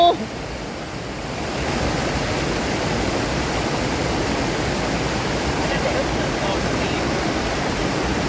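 Water pours over an overflow weir in a continuous loud rush, like heavy surf, filling the whole clip at a steady level after a slightly quieter first second.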